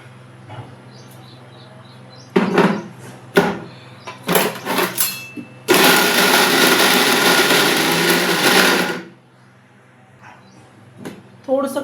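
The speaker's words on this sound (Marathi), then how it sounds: "आणि हे मिक्सरला आपण फिरून घेऊया" A kitchen mixer grinder whirs loudly for about three seconds, blending raw mango chutney with garlic, salt and chilli. Scattered clatter and knocks come before and after the steady burst.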